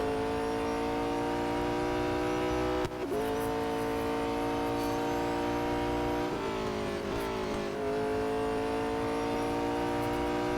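A high-pitched McLaren 650S GT3 racing engine in the mobile game Real Racing 3 drones steadily and loudly, its pitch dipping briefly around gear shifts before climbing again, with no talk.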